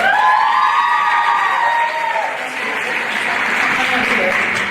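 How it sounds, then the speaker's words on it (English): An audience at a high school Mr Hoosac pageant applauds Talia as she comes onstage, loud dense clapping with some cheering over a lingering tone that fades near the start, holding steady to the end. "Round of applause for Talia."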